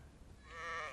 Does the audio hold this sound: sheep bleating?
yes